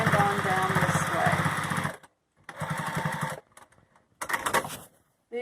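A home sewing machine back-stitching along a folded edge of a cloth face mask, running in steady whirring bursts with short pauses between runs, close up.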